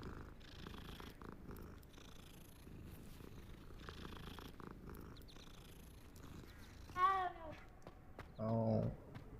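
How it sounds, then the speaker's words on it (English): A cat in the Hogwarts Legacy video game purrs softly and continuously, close but quiet, with a couple of brief meow-like vocal sounds near the end. "Ada kucing."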